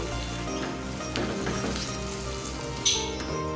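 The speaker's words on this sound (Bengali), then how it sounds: "মশলার সাথে আলু আমি আরও কিছুক্ষণ কষে নিচ্ছি" Potatoes frying with spices in a pan after a splash of hot water, giving a steady, dense sizzle close by with a brief louder crackle near the end and no talking.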